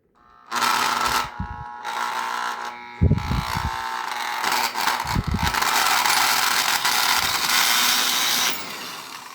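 A variable-speed power tool whirs loudly and close in long, high bursts. Each burst starts with the trigger and falls away in brief gaps, with clunks and a small part rattling loose between runs.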